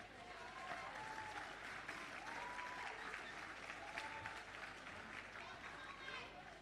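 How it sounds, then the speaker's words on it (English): An audience at a 2018 Australian football league awards presentation night gives a sustained round of applause, an even, continuous patter of clapping heard from a distance and fairly faint. "Once again, a round of applause for our representative players of the year."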